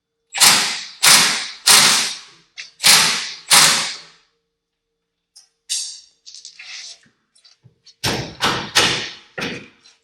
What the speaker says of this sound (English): Let's tighten this up a little more.